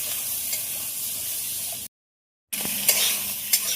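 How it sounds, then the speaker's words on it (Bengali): Beans fry in a pan with green chili, garlic, turmeric and salt. They give a constant sizzle with a few stirring scrapes, broken by one brief silent gap. "শিমগুলো হালকা করে ভেজে নিয়েছি"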